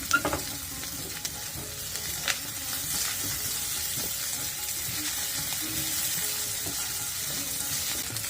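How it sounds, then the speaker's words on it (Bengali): Beef tripe, charred and releasing its own fat, fries in oil with a dense, steady sizzle and crackle, broken by occasional scrapes of stirring, close and without talk. "ভুড়িগুলো একদম পোড়া পোড়া হয়ে আসছে ভুড়ি থেকে তেল ছেড়ে দিয়েছে"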